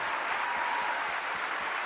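A political congress crowd gives a short, dense, loud burst of sustained applause, a steady wash of clapping with no pauses and no voices.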